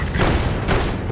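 Two heavy booms from an anti-aircraft cannon in Company of Heroes, loud and close, spaced about half a second apart, with no talking.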